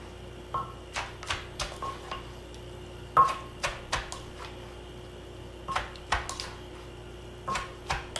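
Papaya salad being tossed in a bowl, with a series of light, sharp clicks and taps from utensils against the dish, coming in irregular bursts with quiet gaps between them.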